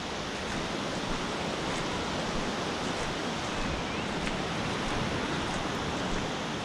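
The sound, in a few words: ocean waves crashing at Old Orchard Beach, Maine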